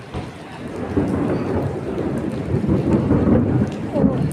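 Thunder rumbles low and heavy while steady rain pours down, the rolling growl swelling after the first second and holding to the end.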